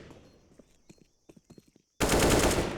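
In a Counter-Strike esports match, a P2K pistol fires a rapid string of sharp, clipped shots, then a sudden loud wash of noise takes over.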